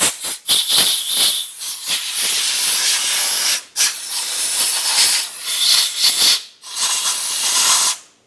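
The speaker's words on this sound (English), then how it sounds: "I'm going to just use some compressed air and blow out the threaded holes." Compressed air is blown into the threaded holes of a 1997–2006 Jeep Wrangler cylinder head at the exhaust manifold, giving loud, close bursts of hiss in several long blasts separated by short pauses.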